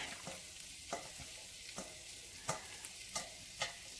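Meat tipped back into a frying pan for spaghetti sauce, giving a soft, steady sizzle punctuated by a series of spaced utensil scrapes and knocks, fairly quiet, without speech.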